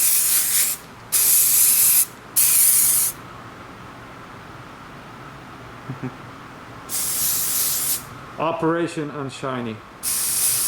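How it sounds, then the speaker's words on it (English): Aerosol scanning coating sprayed onto a Cannondale bike stem part for 3D scanning, heard as three loud hissing bursts followed by a longer one, with a voice breaking in near the end. "sometimes we coat it with some spray and it will make it easier for data acquisition"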